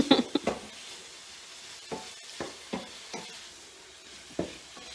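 Pork cooking in a pan with honey, heard as a soft continuous sizzle broken by several sharp stirring or scraping clicks, close and fairly quiet with no talking.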